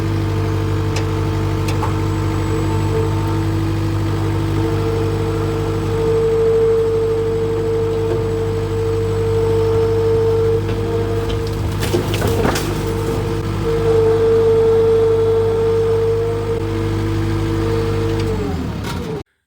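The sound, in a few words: skid steer engine pulling down a wooden barn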